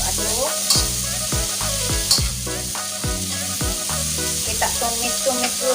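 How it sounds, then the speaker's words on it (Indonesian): Sweet corn stir-fried with tomato and bird's eye chili in a pan, loud constant sizzling with repeated sharp scrapes and clacks of a spatula stirring against the metal, close up and with no talking. "kita tumis-tumis dulu ya, biar nggak terlalu kering ya."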